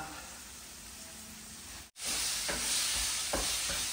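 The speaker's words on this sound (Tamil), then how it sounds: "இப்போ நம்ம வந்து கிளீன் பண்ணி வச்சிருக்க சிக்கனை சேர்த்துடலாம்." Chicken pieces go into a hot pan with onion and tomato, a steady sizzle that briefly cuts out and then returns louder with a few stirring knocks.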